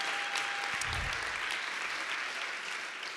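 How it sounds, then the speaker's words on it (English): A live audience at a CreativeMornings New York morning talk gives a soft, distant round of applause, faint and even throughout, with a brief low thump early on. "Can we give Whitney applause too?"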